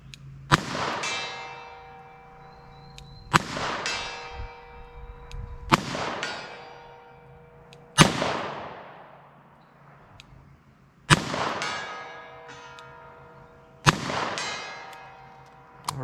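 Six sharp .38 Special revolver shots firing lead rounds, spaced a couple of seconds apart, each a loud crack followed by a long ringing echo.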